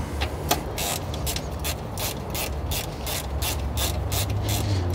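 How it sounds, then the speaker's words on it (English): A ratchet wrench loosens a fuse box bolt in the engine bay of a 2013 Subaru WRX, a rapid run of close, crisp clicks repeating steadily for several seconds with no talking. "what we need to do next is loosen off this bolt"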